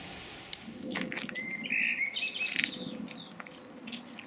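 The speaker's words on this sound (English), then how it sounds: "Is that a blackbird, Mike" A blackbird sings a run of fluting, warbling phrases over a soft outdoor background, fairly close and clear, with a few other chirps.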